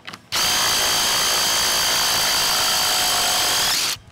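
A DeWalt Atomic cordless drill spins up when its trigger is pulled and holds a steady, loud high-pitched motor whine for about three and a half seconds before stopping, with no voices.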